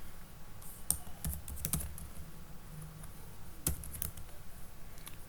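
JavaScript code being typed on a computer keyboard: irregular bursts of light key clicks close to the microphone, some louder taps standing out, with no talking.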